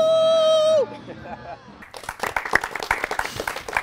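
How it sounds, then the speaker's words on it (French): Scattered hand claps from a small group at a French-language festival, starting after a tonal sound fades and carrying on unevenly and fairly close, with a few people clapping rather than a large crowd. "Tu t'applaudis toi-même?"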